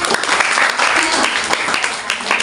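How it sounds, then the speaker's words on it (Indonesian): Students at an Islamic study gathering clap for a participant, a short burst of loud, close applause with distinct individual claps standing out in an uneven rhythm. "Beri tepuk tangan"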